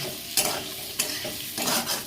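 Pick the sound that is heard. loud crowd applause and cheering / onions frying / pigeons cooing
onions frying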